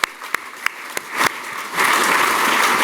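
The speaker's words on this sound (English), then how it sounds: "I'm gonna give my team a huge round of applause because we had an incredible summer." Audience applause for a Chicago Park District team after a speech, starting as a few scattered separate claps and then thickening into steady clapping from a room of people.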